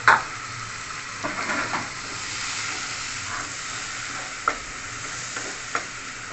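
Paneer water is poured into a pan of spinach, paneer and green chillies and stirred. A sharp hiss starts at the splash, then a continuous sizzle runs under scattered spoon clinks and scrapes, close and without talking.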